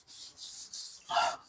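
Repeated dry rubbing strokes of an eraser or cloth wiping writing off a classroom board, four short rasping sweeps in a steady rhythm, close and fairly faint with no talk.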